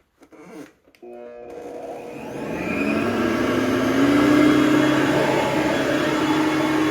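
A Hoover Platinum UH30010 upright vacuum cleaner switches on with a few clunks, then its motor whirs up and settles into a steady loud drone with rising tone as it runs on carpet.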